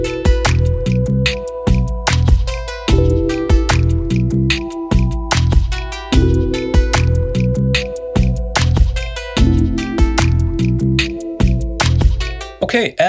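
Hip hop beat built on an OP-Z and TX-6 setup: punchy kick and snare hits in a steady groove with sustained chord tones and bass, dense and loud throughout, no talking.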